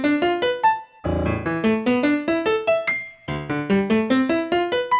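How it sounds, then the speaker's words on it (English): Piano notes from a math web app that turns a tangent function into sound, playing quick rising runs that reset with a low chord and repeat, clear and close, with no talk. "Did you ever want to hear what a tangent function sounds like on the piano?"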